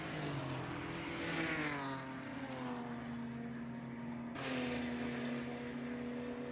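Race cars roar past on the track at Mid-Ohio, a loud sustained engine drone with harmonic whine that swells, dips and surges again as several cars pass close by, with no talk.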